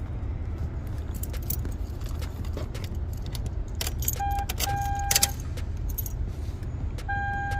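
Car keys jangle and clink near a Toyota Camry's ignition as the key is pulled out, with bright metallic chimes over a low steady idle hum and a few short electronic tones.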